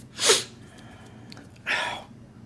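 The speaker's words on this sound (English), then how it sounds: "Excuse me, I might sneeze here." Two sneezes from one person, close and fairly loud, spaced about a second and a half apart with quiet breathing in between and no talking.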